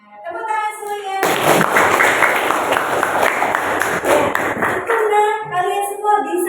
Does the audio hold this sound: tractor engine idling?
no